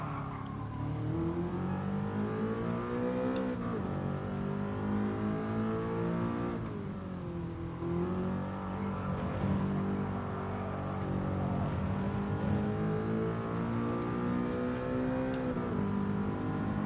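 A V10 car in Gran Turismo Sport, heard from the cockpit, revs and accelerates steadily, its engine note rising through gears with brief dips at shifts, loud and continuous with no talking.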